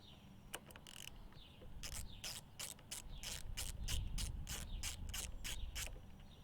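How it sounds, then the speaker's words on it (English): A 13mm socket ratchet working a nut off the brake or clutch lever of a Honda Grom clicks in a quick run of rapid, evenly spaced pawl ticks, faint and close, with no talk. "Now you're going to grab your 10mm wrench and your 13mm socket. 10mm goes on the top, 13 goes on the bottom."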